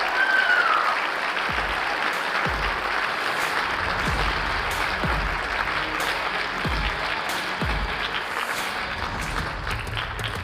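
Audience applause at the Crystal Apple Awards 2024 ceremony, a sustained wash of many hands clapping evenly for the full stretch, loud and continuous with no talk.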